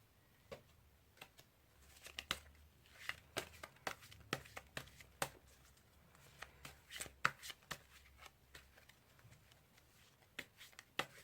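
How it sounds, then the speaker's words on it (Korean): Tarot cards shuffled by hand in a quiet room, a long run of close, crisp riffling slaps and soft snaps in an uneven rhythm, faint overall, with no talking. "출구 카드를 먼저 뽑아보도록 하겠습니다."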